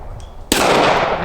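A Smith and Wesson M&P Compact pistol fires a single loud, sharp gunshot outdoors, the crack followed by a sustained echoing roar that fades slowly.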